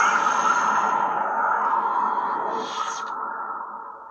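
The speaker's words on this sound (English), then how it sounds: "So you got the nice windy fade off" A steady airy, windy whoosh with a hum underneath slowly fades down toward the end as a lightsaber blade powers off, from a custom lightsaber with an Arctic Green LED.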